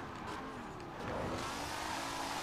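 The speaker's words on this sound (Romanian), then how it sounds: "Îmi place și cum sună motorul și evacuarea" An all-wheel-drive car engine in the video game Forza Horizon 5 hums steadily and then rises in pitch as it accelerates, with a raspy exhaust tone and no speech.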